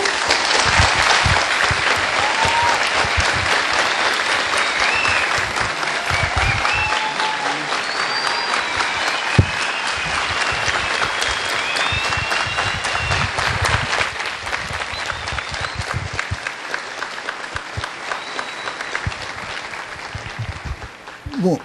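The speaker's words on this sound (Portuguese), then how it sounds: "merecidos aplausos" An audience at a university gives sustained, dense applause after Marcelo Gleiser's lecture. The clapping holds steady and loud for over twenty seconds, with a few scattered voices and whistles mixed in.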